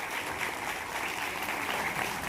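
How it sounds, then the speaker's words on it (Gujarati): An audience at a Prajapati community student felicitation ceremony in Anand claps steadily for the honoured students. The dense, even applause lasts throughout. "એમના માટે એકવાર જોરદાર તાળીઓ થઈ"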